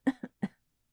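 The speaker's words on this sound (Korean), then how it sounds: "하고 중얼거리며 가볍게 기침을 했다." Three light coughs from an elderly man indoors, two close together then a third after a short gap, soft and near with silence after.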